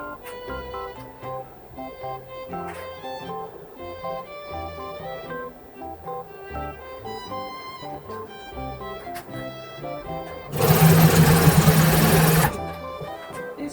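A sewing machine stitches cosplay alterations in rapid, mechanical bursts that start and stop with short pauses. Nearby music plays underneath, and a brief loud, noisy burst interrupts near the end.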